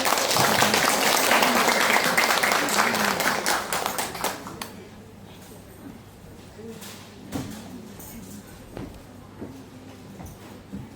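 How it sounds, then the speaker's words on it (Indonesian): Congregation applauding at a Christmas celebration for Indonesian migrant workers in Hong Kong: dense, loud clapping for about four seconds that quickly thins to a few scattered claps and faint room noise, with some voices murmuring. "Tepuk tangan dulu."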